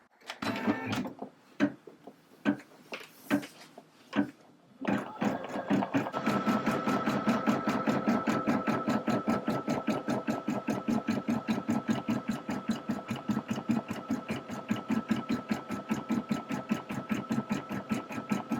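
A Brother LB5000M Marvel sewing and embroidery machine starts with a few separate clicks and clunks, then runs with a rapid, even needle rhythm that holds steady and close for over thirteen seconds with no voices.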